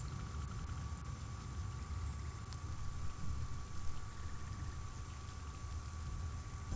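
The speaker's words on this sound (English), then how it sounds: "It's just raining, okay." Rain falling in the video game PixArk, a faint, steady hiss and patter that carries on evenly without a break.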